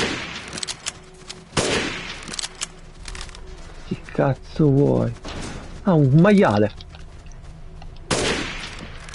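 Gunfire from the video game Resident Evil Village: several short sharp shots scattered through the clip, with someone talking over them and bursts of a pig-like creature squealing in between.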